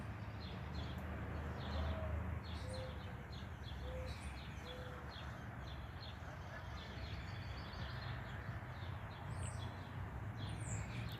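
A bird near blackberry bushes gives a series of soft, evenly spaced calls early on, faint against steady outdoor noise, with more chirps scattered higher up later.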